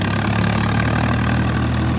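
A Swaraj 15/17 model tractor engine idles steadily, a loud, close, low diesel rumble with an even throbbing drone and no pauses or voices.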